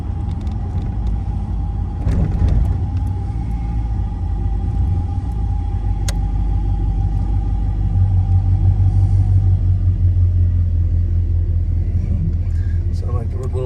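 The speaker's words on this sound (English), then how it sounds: "Sound like there was a little belt squeal there as well." A 1978 Chevrolet El Camino SS with an LS engine runs at a low, steady rumbling idle close by, with a slight belt squeal noted, while someone talks over the engine throughout.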